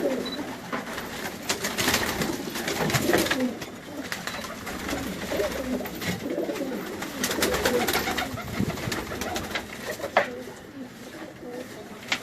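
A pigeon in Karachi coos softly in low, repeated throaty calls, fairly close, over faint background noise with no clear speech.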